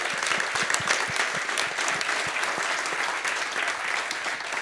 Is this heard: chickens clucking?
no